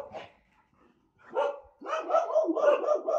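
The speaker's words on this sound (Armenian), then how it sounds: "ուղղակի հաչում են։" Several stray dogs bark in bursts, an early yelp followed by a louder run of overlapping barks that fills the last half of the clip, fairly close and with no talking.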